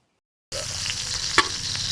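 Garlic and onion fry in a pan, a sudden steady sizzle starting after a brief silence, close and loud, with a few sharp clinks of stirring.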